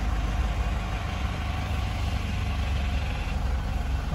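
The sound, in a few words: Mitsubishi Pajero Sport engine idling after starting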